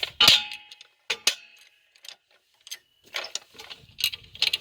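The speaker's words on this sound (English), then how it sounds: "We're going to jack it up so we can take the weight off the springs." A jack raises a vehicle's axle during spring isolator replacement, producing irregular metallic clicks and ratcheting strokes in short bursts with quiet gaps between them.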